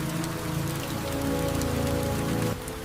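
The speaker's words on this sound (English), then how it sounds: "Rain thickens over the mangroves, softening the colors and soaking the nest edge" Steady rain patters over a mangrove island holding a scarlet ibis nesting colony, a dense continuous wash with a low tonal hum beneath it that drops away near the end.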